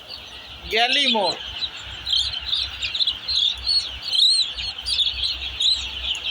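Four-day-old poultry chicks chirp in a busy, high-pitched chorus of overlapping peeps that runs throughout, with a man's short spoken phrase near the start and a low background hum.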